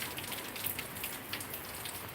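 Steady rain falling on a Monday morning at the end of the rainy season, a continuous dense hiss of drops on surfaces at even loudness throughout, with no voices.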